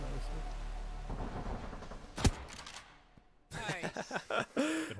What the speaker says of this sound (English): That's a good shotgun.